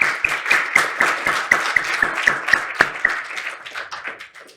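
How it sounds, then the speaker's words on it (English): A small group claps in a loose rhythm, individual claps distinct and fairly close, thinning out and fading toward the end. "Please give a round of applause to all of them."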